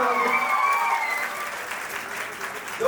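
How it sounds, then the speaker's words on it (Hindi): An audience at the Adda247 offline meetup in Lucknow for SSC, bank and railway exam aspirants claps steadily and fairly loudly, with voices speaking over it near the start and a brief shout at the end. "मेरा तो तालियां बनती है।"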